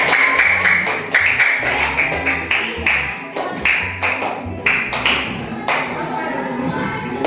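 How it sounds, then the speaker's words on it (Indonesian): A classroom of pupils clapping for a small group of classmates in a maths lesson, loud close hand claps in uneven bursts with a rhythmic, chant-like pattern over several seconds, with faint voices beneath. "beri tepuk tangan untuk kelompok 4"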